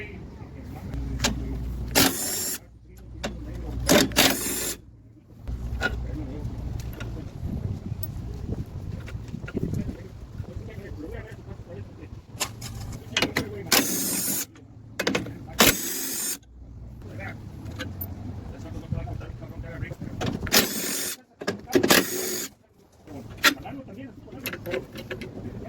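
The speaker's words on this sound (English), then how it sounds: "So now we're going to remove those 2 bolts, these 2 in the middle, and those." Wrenching bolts out of the AC condenser on a Chevy Trailblazer: short bursts of ratcheting and metallic tool noise come and go between quieter stretches, with someone talking throughout.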